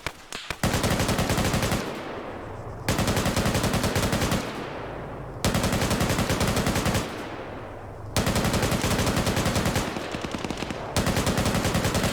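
Sustained automatic gunfire in a military shooter game, several long loud bursts separated by brief pauses with echoing decay between them.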